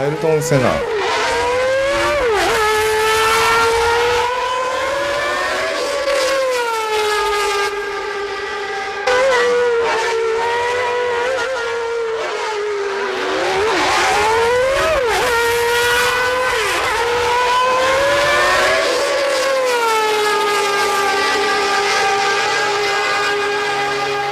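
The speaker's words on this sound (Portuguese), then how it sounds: "O carro de Senna foi para a pista e nós gravamos o som do motor." A high-revving Formula 1 McLaren engine from Ayrton Senna's car screams and shifts through gears, pitch rising and falling repeatedly over a sustained, loud stretch.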